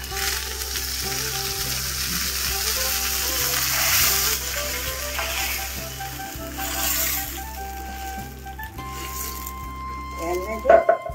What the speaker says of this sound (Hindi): अब उसमें हम ये देखो ये तड़का छोड़ेंगे